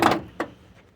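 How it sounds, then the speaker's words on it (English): A side door of a 2003 Chevy Express 3500 extended 15-passenger van slides and latches with a rolling clunk, followed by a second softer thud shortly after as the other side door opens. "Both side doors open."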